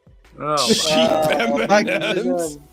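A voice imitates a sheep bleating, a loud wavering bleat held for about two seconds, close to the microphone.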